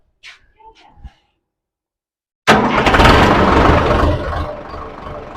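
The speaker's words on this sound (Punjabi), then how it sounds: "ਆਓ ਤੁਹਾਨੂੰ ਟਰੈਕਟਰ ਦੀ ਆਵਾਜ਼ ਸੁਣਾਉਂਦੇ ਆ ਸਟਾਰਟ ਕਰਕੇ ਦਿਖਾਉਂਦੇ ਆ ਟਰੈਕਟਰ" A tractor fitted with a new engine starts abruptly after a few quiet seconds with brief speech, then settles into a loud, steady close-up diesel rumble.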